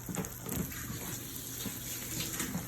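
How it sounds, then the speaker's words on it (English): Tap water runs steadily into a kitchen sink while hands are washed, a continuous close splashing hiss with small irregular spatters and no voices. "I'm gonna wash my hand."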